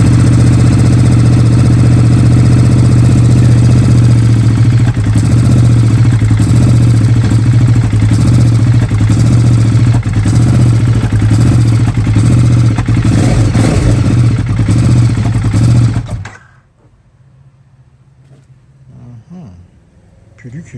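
A KTM RC8 R motorcycle, under repair, runs loud and steady close by, a strong low engine drone with clattery texture that holds for about sixteen seconds before cutting off abruptly, leaving a faint quiet background.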